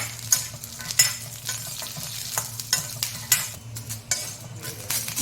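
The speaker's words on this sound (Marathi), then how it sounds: "एक लसणाच्या दहा बारा पाकळ्या आणि शेंगदाणे आता हे यासोबत व्यवस्थित परतून घ्यायचं" Garlic cloves, peanuts and green chilies roasting in a pan for a raw mango thecha, a close sizzle broken by regular scraping strokes of a spatula, roughly one per second.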